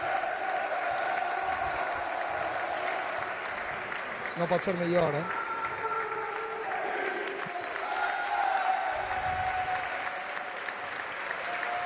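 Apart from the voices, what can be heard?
basketball crowd ovation applauding the team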